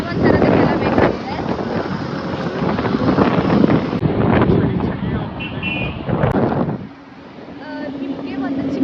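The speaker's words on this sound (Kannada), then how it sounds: "ಬೈಕಲ್ಲಿ ಹೋಗ್ತಾ ಇದ್ದೀವಿ ಊರಿಗೆ." Steady wind rush buffets the microphone while riding a motorbike on the way to a home village, a loud continuous roar with voices talking over it that eases near the end.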